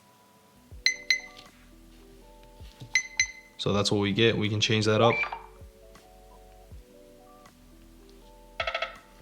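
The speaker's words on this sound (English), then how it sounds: "We have all these little options for notifications" Short chimes, clicks and tonal notification tones from a Nothing Phone (2a) previewed one after another, with a longer dense melodic burst in the middle and a bright tone near the end, while a person talks between them.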